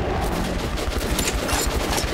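Rapid automatic gunfire from Metro 2033 Redux rattles in a dense, continuous burst, loud and close, with no talking over it.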